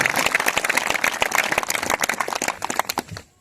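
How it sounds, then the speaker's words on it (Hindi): A church congregation claps together in praise, a loud dense burst of many hands with sharp individual claps, fading out at the end. "जीवित वचन का आदर करते हुए ताली बजाकर स्वर्गीय परमेश्वर का महिमा करें"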